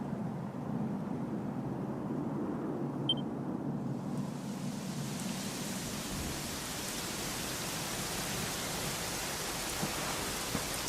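Steady rainfall in the Dragon Quest XI video game, a constant hiss of rain that grows brighter and fuller partway through and continues alone.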